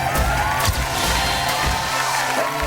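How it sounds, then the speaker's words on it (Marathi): A crowd applauds and cheers for the winner at a televised women's show, with dense clapping and scattered whoops, loud and sustained throughout. "एकदा जोरदार टाळ्या ताईंसाठी होऊन जाऊ देत."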